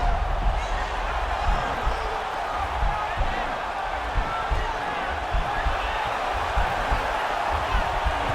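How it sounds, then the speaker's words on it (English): Arena crowd noise from the UFC 4 fighting video game, a continuous dense roar of murmuring and cheering with scattered thumps, steady and fairly loud throughout. "We'll see if the crowd can be mature about this, DC."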